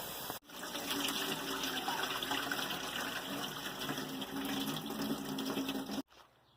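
A close, steady rush of running water rinsing soap out of hand-washed laundry, continuous for several seconds before it cuts off abruptly.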